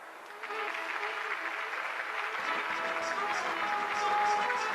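Steady applause from a crowd greets an orchestra, building quickly after a quiet start and holding as a dense, even clatter of clapping to the end.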